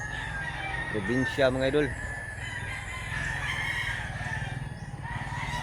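Roosters crowing loudly and close at a chicken market, one long wavering crow standing out over steady background clucking and crowd noise while someone talks.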